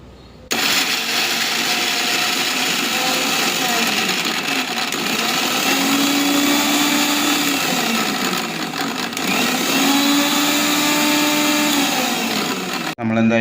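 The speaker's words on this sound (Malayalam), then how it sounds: "ഇനിയും ഇതെല്ലാം കൂടി നമ്മൾ മിക്സിയിൽ നമ്മൾ ഇട്ടിട്ടുണ്ട്. ഇനി അതൊന്ന് അരച്ച് നമുക്കെടുക്കാം." An electric mixer grinder blends mango chutney ingredients in a steady, loud, whirring roar that runs almost the whole time, with slight shifts in pitch as the load changes, then cuts off at the end.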